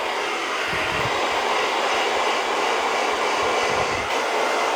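A hair dryer set to medium speed and medium heat runs with a steady broadband rushing whoosh, loud and close, with faint low fluctuations as it moves, and no voices.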